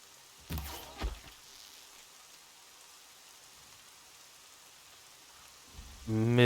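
Soft, steady rainfall from the video game Horizon Zero Dawn patters quietly throughout, broken by a couple of brief thumps early on and a louder sound rising at the very end.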